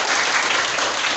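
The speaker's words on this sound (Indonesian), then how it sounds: "tepuk tangan untuk Pak Soleh" Short stretch of steady audience applause from teachers and parents at an education workshop session, dense and even, with no talk over it.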